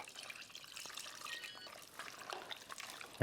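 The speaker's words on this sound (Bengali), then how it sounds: "তারপর আমরা মাংসটার মধ্যে 1 কাপের মতো পানি এটার মধ্যে ঢালে দিব" Water poured over marinated meat in a pressure cooker, a faint, continuous trickle and splash that stays low and steady for a few seconds, with a small knock at the end.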